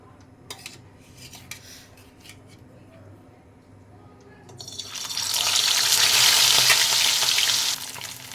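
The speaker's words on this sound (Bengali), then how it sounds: "এবার আমি মাছগুলো ভেজে নেব" Rohu fish frying in hot oil in a wok, starting with quiet clinks and handling, then a loud, steady hiss of frying swelling up and holding close for several seconds.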